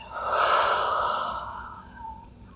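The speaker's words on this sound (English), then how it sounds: "Full breath in. Full breath out." A slow, audible breath during a wake-up stretching routine, drawn in and released through the nose and mouth, close and soft, swelling then fading over a couple of seconds with no talk.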